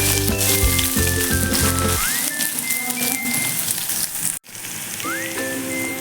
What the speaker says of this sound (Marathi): कांदा एक मिनिट आपण छान असा फ्राय करून घेऊयात तेलावरती